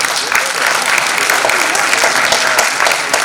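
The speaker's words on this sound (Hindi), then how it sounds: "जोरदार तालियां" An audience claps loudly and steadily at a Hindi theatre play festival, a dense sustained burst of applause filling the hall without letting up.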